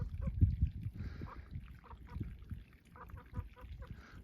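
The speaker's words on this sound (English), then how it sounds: "Chicken farm." Chickens on a chicken farm give scattered, faint clucks and squawks. The calls come in uneven bursts over a low, muffled background.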